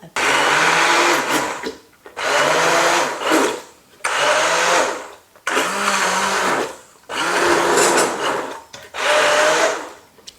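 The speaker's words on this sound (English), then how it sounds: "then I'm going to use my stick blender, give it a blend up" A stick blender purees homemade vegetable soup of broccoli and carrot in six loud, close whirring bursts of about a second and a half each, with short quiet gaps between them.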